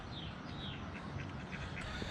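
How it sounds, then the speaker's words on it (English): Ducks quack faintly in an outdoor setting, a few scattered calls over a dense, rushing background. "there's some ducks"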